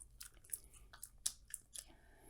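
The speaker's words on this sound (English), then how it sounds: "If y'all heard me chewing gum, don't mind me." Close, soft wet chewing of mint gum, with irregular small smacks and clicks spaced through a quiet moment and no talk over it.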